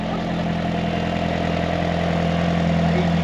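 A Lexus IS with a small four-cylinder engine idles at a classic Japanese car show, a steady close mid-to-low engine drone holding even throughout with no talk over it.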